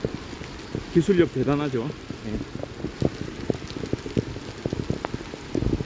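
Rain falling at dawn during a walk outdoors, a steady soft hiss with scattered close drop taps throughout, while someone speaks briefly near the start.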